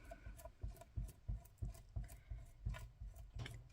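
Glued paper rubbed down by hand for a tag ephemera holder makes a rhythmic series of close, dry scraping strokes, about a dozen short rubs in quick succession with no one speaking.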